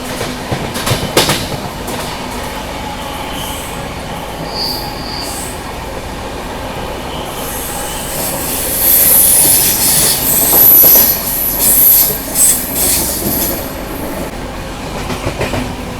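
A passenger train, the Tinsukia Bangalore Express, rumbles along the tracks in the monsoon, its steady wheel noise swelling midway with high metallic squeals and rhythmic clatter.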